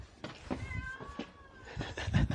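A Bedouin cat at the ancient city of Petra gives a drawn-out, wavering meow, with shorter cries around it, heard fairly close over a rough outdoor background with scattered knocks and rustles.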